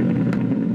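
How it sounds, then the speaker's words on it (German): Tuned Lamborghini Urus SUV with an aftermarket exhaust rumbles in a brief, loud, close burst of deep engine growl with a slight rasp. "Mach mir bitte einmal Sound, ganz kurz"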